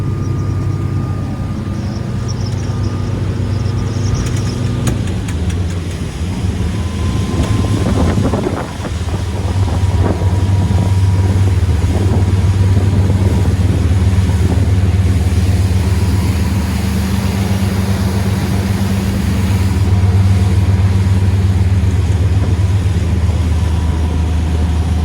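A Jeanneau Leader 805 motorboat runs at speed around 3700 RPM, a steady loud engine drone mixed with heavy wind buffeting and rushing water, with a brief gusty disturbance midway.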